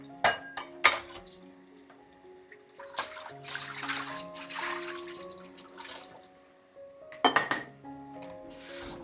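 Ground masala spooned into a pot of pepper chicken gravy, with sharp metallic clinks of a spoon against the pot, then a stretch of wet scraping and stirring, close by and moderately loud.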